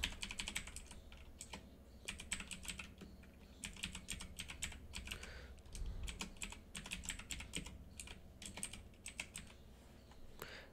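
Someone types an email ID on a computer keyboard to log in. Quick, light keystrokes come in several bursts with short pauses between them, close and fairly quiet, with no speech.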